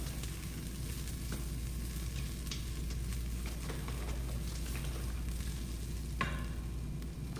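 Broth poured into a hot Instant Pot while making butternut squash soup, giving a steady, continuous hissing sizzle with a few light clinks and stirring scrapes, fairly close and without any talking.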